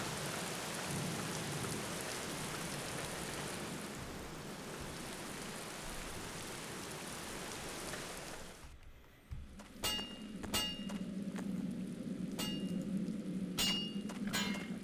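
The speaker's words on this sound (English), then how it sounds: "It's rain coming down." Heavy rain pours in a dense, steady rush in The Black Mirror, then softens to quieter pattering, broken by sharp cracks and rumbling thunder late on.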